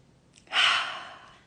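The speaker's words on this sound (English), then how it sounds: "Deep breath in." One slow, deep breath drawn in through the nose or mouth during a guided forgiveness meditation, an airy rush that swells quickly then fades, close and clear in an otherwise quiet space.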